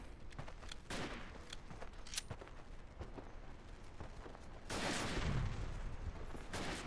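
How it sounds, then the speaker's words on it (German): Rifle fire in the Verdun World War I multiplayer game, a rifle deathmatch on the Vauquois map: scattered sharp shots and distant battlefield rumble, faint overall, rising into a louder burst of firing toward the end. "da kommen schon die Schüsse"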